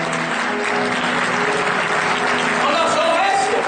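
Applause in a church fills the space as a dense, steady wash of clapping from the congregation, loud and continuous throughout with no pauses.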